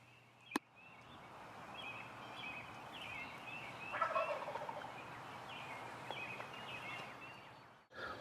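A lone wild turkey gobbles from its roost in a big oak in the Kentucky woods, repeated gobbles ringing out at moderate distance over steady birdsong and background hum, with a sharp click near the start.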